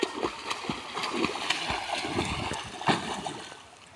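A person jumping into water outdoors: close splashes and sloshing with a burst of churning water near the start and another around three seconds, settling to quieter lapping at the end, with no talk.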